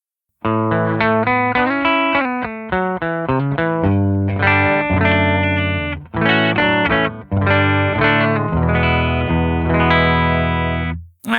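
Electric guitar playing chords and picked phrases through a Mixwave Benson amp plugin, fairly clean tone with slight effects coloring, steady and close, no voices.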